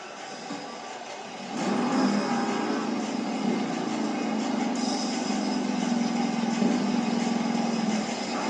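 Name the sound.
Toro Loco monster truck engine at Monster Jam arena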